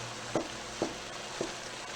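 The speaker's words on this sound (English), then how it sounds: "It doesn't take too long of steam frying." Zucchini and beef steam-fry in a pan with a steady sizzle, broken by three soft stirring scrapes at even intervals.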